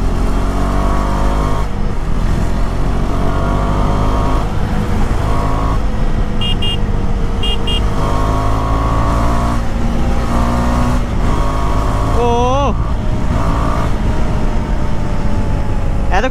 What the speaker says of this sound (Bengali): ইঞ্জিনের শব্দ থেকে শুরু করে সব কিছুই তোমরা শুনতে পাচ্ছ।